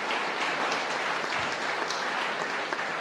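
Steady, dense applause from a college debate audience in Chennai after the young speakers, a continuous crackle of many hands clapping close by with no one talking over it.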